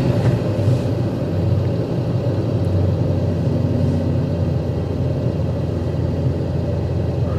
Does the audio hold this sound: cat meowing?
no